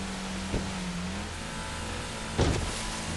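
A car drives along a coastal road with a low steady engine rumble and road noise inside the cabin, broken by two brief mechanical whirs or thumps, with no one talking.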